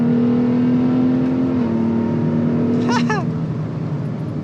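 A big 450 hp V6 engine in a six-metre, three-tonne Ford truck drones steadily, then rises in a revving surge, loud and close, heard from inside with the rear window open.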